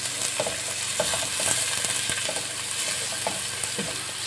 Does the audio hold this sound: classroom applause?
no